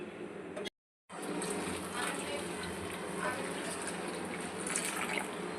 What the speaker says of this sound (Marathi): तर याच्यात घालूया गरम पाणी।